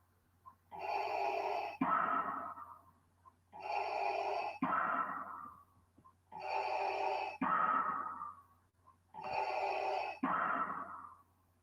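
Four rounds of loud, heavy breathing, each a long rasping inhale followed by a sharp, gusty exhale, repeat at a steady pace every few seconds, close and alone over a faint low hum.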